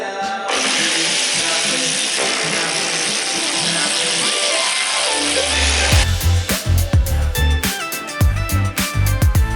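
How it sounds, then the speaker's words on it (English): A power drill whines steadily for several seconds, then gives way to rougher bursts of grinding and knocking as it bores into a BMW 3 Series car bumper, loud and close. "if this doesn't work, I'm drilling straight into my bumper."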